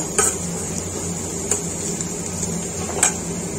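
Chopped tomato, capsicum and potato with curry leaves and mustard seeds roasting in a pan for upma, a low steady sizzle broken by three sharp scrapes or clinks of a spoon against the pan.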